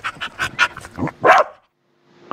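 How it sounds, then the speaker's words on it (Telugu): A dog sound effect from Google's animal sounds feature: a quick run of about six sharp barks close together, then a short pause and one faint final yelp. "ఫస్ట్ నేను డాగ్"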